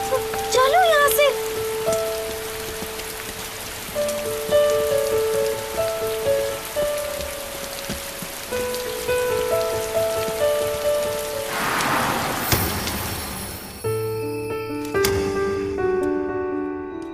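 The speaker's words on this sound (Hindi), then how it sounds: "बारिश हो रही है" Rain patters steadily on surfaces in a Korean drama, close and continuous beneath music.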